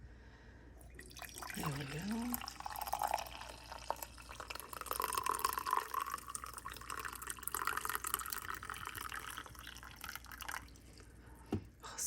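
Coffee trickles and drips into a cup on a rainy autumn day, a soft, close liquid patter that runs for several seconds. A person speaks briefly, and a small clink is heard near the end.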